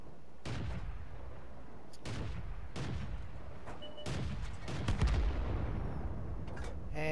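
Artillery shots from an SU-5 self-propelled gun in World of Tanks, several heavy booming blasts spaced a second or so apart, each with a short rumbling decay over steady game background noise.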